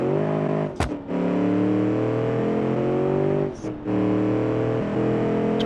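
A turbocharged sports car engine in a BeamNG Drive video game drones at high revs with a steady tonal whine, briefly dipping twice as gears shift, then climbing again.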